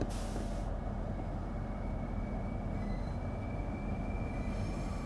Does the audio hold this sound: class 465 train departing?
yes